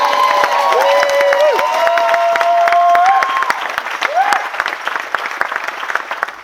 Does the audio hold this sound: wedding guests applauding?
yes